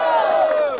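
A crowd at a rap battle in Barueri lets out a loud, unified whooping cheer, one short sustained shout that rises together and tapers off within a second.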